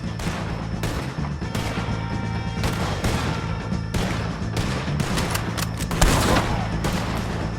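Rapid gunfire crackles through a shootout with the O'Driscoll gang in Red Dead Redemption 2, dense volleys of rifle and pistol shots hammering in close succession with a few heavier bursts, no voices over them.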